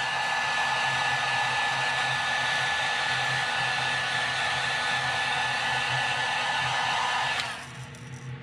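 Steady, loud hair-dryer-like blowing of a heat gun drying deep red paint on a custom-painted crankbait fishing lure, running continuously before cutting off near the end.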